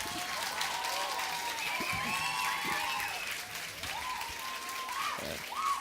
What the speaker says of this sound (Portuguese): salva de palmas pra nossa banda!